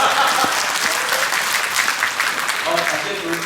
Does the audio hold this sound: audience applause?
yes